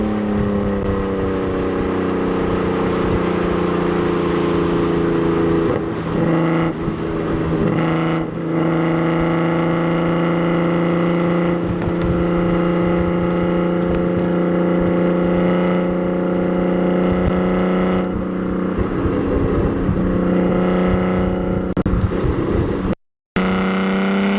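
Twin-turbocharged VR6 swapped into an all-wheel-drive, six-speed manual Volkswagen New Beetle GT6, running steadily with strong harmonic engine tone and shifting pitch as it revs, close and loud throughout with a brief dropout near the end.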